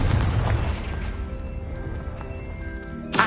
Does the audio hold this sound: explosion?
yes